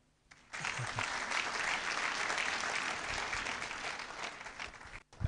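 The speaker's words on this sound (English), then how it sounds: "Oh, I was hoping you clap." An audience at a university freshers orientation breaks into applause, dense and steady clapping that starts abruptly after a brief pause and continues for several seconds before cutting off.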